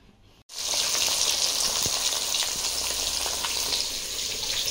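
Fresh fish frying in a pan for a home-cooked fish curry, starting abruptly as a loud, steady, close sizzle of hot oil with small crackles and pops, with no talking.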